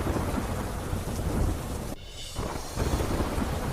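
Heavy rain pours during a cyclone in Abdasa, Kutch, driven by strong storm wind: a continuous dense roar of rain with gusting wind, a brief lull near the middle, then a renewed downpour.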